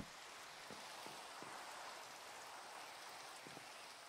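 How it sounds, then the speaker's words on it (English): Steady, hissing downpour of rain in a survival video game, a constant broad wash of sound with a few faint low thumps underneath and no voices. "I am stuttery. Especially because of the rain."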